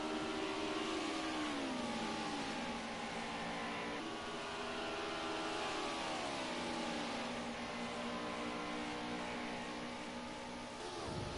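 Race car engines howling on the back straight at Rouen Les Essarts in a racing video game, pitch climbing and dropping through gear changes, continuous and fairly close with no talking.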